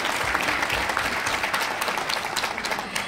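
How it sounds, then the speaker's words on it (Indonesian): Audience applause fills a sales presentation for Atomy, a steady wash of clapping from a crowd lasting about three seconds without pause. "Boleh beri tepuk tangan untuk Atomy."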